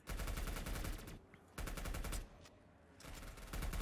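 A machine gun with a 90-round magazine fires in a shooter video game, loud and up close, in three long automatic bursts separated by brief pauses.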